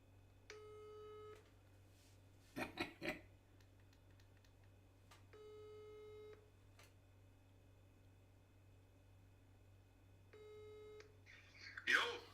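A telephone call is placed during a live stream: short dial or ring tones repeat at intervals under a steady low hum, with a few soft clicks between them and no talking over them.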